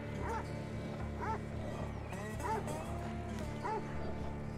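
Three dogs in the Stranded: Alien Dawn video game, a Weimaraner, a Boxer and a Great Dane, let out repeated short barks and yips at moderate distance over a steady low background hum.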